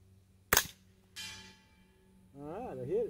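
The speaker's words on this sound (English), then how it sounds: "I'm gonna shoot at the diamond down there." One sharp, close crack comes from a pre-ban Colt AR-15 Sporter II carbine firing a 22LR round through a subcaliber bolt, followed by quiet speech.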